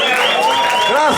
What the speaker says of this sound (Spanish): un aplauso para estos grupazos